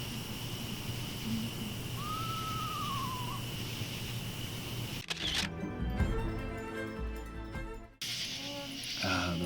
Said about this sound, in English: Just heard a screeching owl